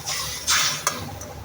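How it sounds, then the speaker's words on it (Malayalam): Tamarind water poured into a pan of sautéed ginger curry, with a crackling sizzle that flares in a few sharp bursts over a low background hiss. "നമുക്ക് പിഴിഞ്ഞ് വെച്ച പുളിവെള്ളം അതിലേക്ക് ഒഴിക്കാവുന്നതാണ്"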